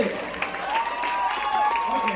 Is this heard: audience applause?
yes